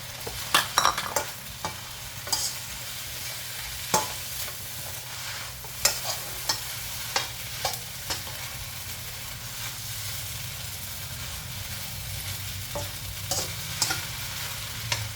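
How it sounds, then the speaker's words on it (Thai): Pork belly with egg, glass noodles, celery and scallions sizzles steadily in a pan, with a utensil repeatedly scraping and clacking against the metal as it is stir-fried, close and continuous with no talking. "ผัดให้สุกๆแล้วเดี๋ยวก็ขึ้นได้ค่ะ"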